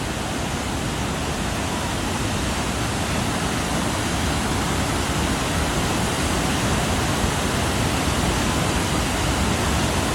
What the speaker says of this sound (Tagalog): Lakas sa tubig, mabilis magbanlaw.